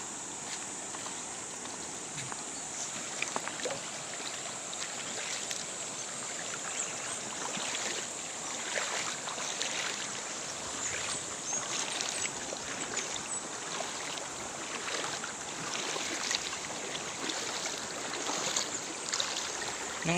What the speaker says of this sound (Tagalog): Ito yung ilog.